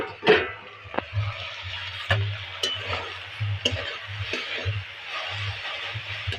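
Shushni saag, a leafy green, frying in oil in a pan, with a soft steady sizzle broken by irregular scraping and clacking strokes as a utensil stirs the leaves, close and fairly quiet.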